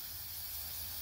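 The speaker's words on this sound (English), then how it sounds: "taking a can of spray paint and just painting it" Spray paint can hissing onto hot forged metal in a blacksmith shop, a steady close airy spray lasting about a second with no talking.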